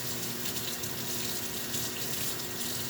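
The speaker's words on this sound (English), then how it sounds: "Rinse my hand." A kitchen tap runs in a steady, full, close hiss of water while a hand is rinsed under it, with no one talking.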